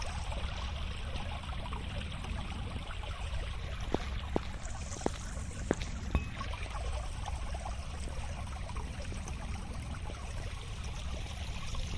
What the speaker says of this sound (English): There's a waterfall in the back,